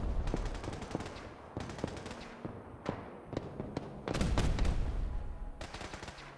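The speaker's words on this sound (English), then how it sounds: "For some reason, the Children of Atom have got gamma guns." Gamma guns fire in Fallout 4 Survival, bursts of rapid gunfire and single sharp shots scattered over several seconds, with a loud dense volley near the end. The shots are fairly close and come without talk.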